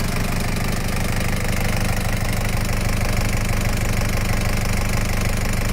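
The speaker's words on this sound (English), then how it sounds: "Very quiet for a diesel engine." A 1989 Land Rover Defender Perentie 110 with a naturally aspirated non-turbo diesel engine idles close up, a steady, even clatter with a low rhythmic knock that holds unchanged throughout.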